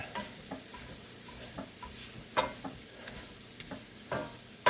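Cabbage and kielbasa seasoned with Goya Sazon are stirred in a Lodge enameled cast iron pot, giving a quiet sizzle under irregular scrapes and taps of the utensil against the pot.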